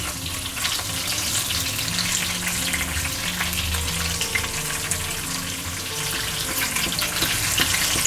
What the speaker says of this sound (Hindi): मसालों को थोड़ा सा भूनेंगे।